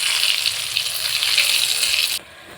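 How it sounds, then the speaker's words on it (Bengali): Luchi, puffed Bengali flatbread, frying in hot oil in a home kitchen, a steady dense sizzle that holds close and loud for about two seconds and then cuts off abruptly. "দেখো বন্ধুরা, লুচি ভাজা চলছে।"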